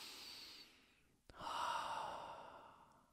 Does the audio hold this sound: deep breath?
yes